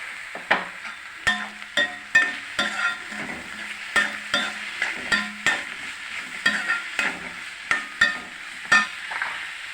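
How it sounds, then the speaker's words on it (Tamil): Onions frying in a pan for a capsicum stir-fry as tomatoes go in, with a spatula scraping and tapping in a brisk, fairly regular rhythm over a light sizzle, close and clear, with no speech. "வெங்காயமும் வதங்கிடுச்சு இப்போ தக்காளி போட்டுக்கலாம்"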